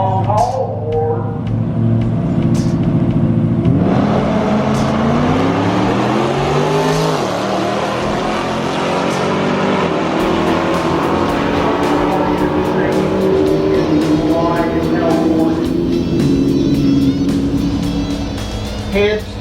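Race cars, including the 990 car, run an index race at ChallengerFest 2020. Engines rev loudly and roar steadily for the whole stretch, rising in pitch as the cars accelerate, while an announcer talks over the noise.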